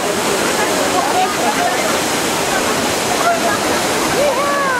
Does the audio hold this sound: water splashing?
yes